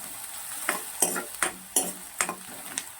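Onions fry gently in oil for kande pohe, a faint hiss under a regular series of sharp scrapes and taps as a spatula stirs them around the pan, close and fairly quiet.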